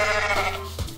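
A goat bleats in a farm-themed video game, one short nasal bleat with a held, wavering tone over steady game audio, ending in a lower grunt-like note.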